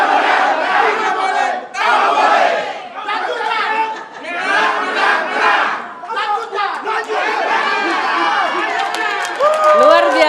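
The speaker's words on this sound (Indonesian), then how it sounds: "Sekali lagi kita berikan tepuk tangan yang meriah untuk kedua pasangan calon Bupati dan Wakil Bupati Maluku Tenggara 2024" Supporters cheer at a 2024 Southeast Maluku regency and vice-regency candidate debate, a loud crowd shouting and chanting continuously with brief dips between bursts.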